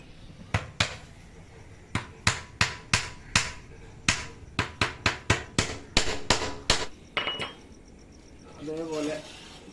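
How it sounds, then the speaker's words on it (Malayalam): A hammer drives nails into the wire net of a homemade bird cage in a run of sharp metallic strikes, some quick and some spaced apart, with a voice speaking briefly near the end. "ഇങ്ങനെ വെച്ച് നമ്മൾ അടിച്ചു കൊടുക്കുക."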